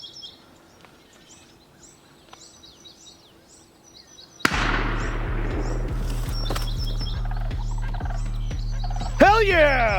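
A wild turkey tom gobbles several times during a Wisconsin spring hunt, faint and distant over quiet woods, then a loud blast and steady rumble cut in before a sharp clattering burst at the end.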